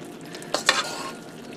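Cornbread batter is spooned over a burger mixture in a baking dish, giving two or three soft, wet plops and scrapes close by, brief and fairly quiet, with no talking.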